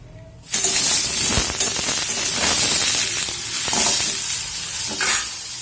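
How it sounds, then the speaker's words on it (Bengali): Food frying in a hot wok, a loud, sudden sizzle that bursts in after a brief quiet moment and keeps hissing steadily, with occasional stirring clatter, close by and free of talk. "ভাজা হতে থাক।"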